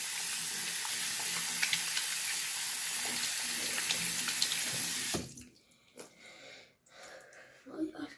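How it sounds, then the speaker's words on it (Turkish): Tap water runs steadily into a sink as hands are washed with soap, a loud continuous splashing hiss that stops abruptly partway, followed by quieter handling sounds and a voice. "Ben elimi yıkayayım."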